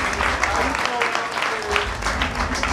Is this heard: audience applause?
yes